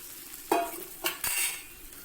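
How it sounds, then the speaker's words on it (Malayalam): Papaya is mixed into chili powder in a clay pot, giving a few soft scraping strokes close by over a faint sizzle. "പപ്പായ ചേർത്ത് നന്നായി മിക്സ് ചെയ്തെടുക്കാം."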